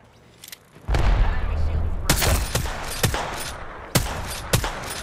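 Gunfire rings out in the Apex Legends video game: after a brief lull, a steady rattle of shots builds into loud bursts with several sharp, distinct cracks spaced about a second apart, under people talking.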